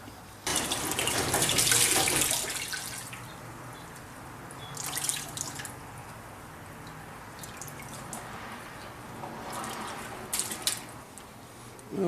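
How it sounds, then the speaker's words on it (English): Running water rinses a surface in a steady close wash, with louder splashy bursts near the start and again midway and near the end. "So I'm going to go ahead and rinse it off now."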